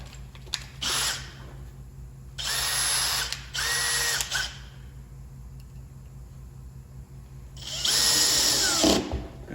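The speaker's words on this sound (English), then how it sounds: "I just center that on, give myself a little pilot bit. I don't go in very deep with softwood because I want those screws to bite." A small drill with a pilot bit cuts holes in softwood for door hinge screws. Four short, loud bursts of whirring come close by, separated by pauses of quiet, with no talk.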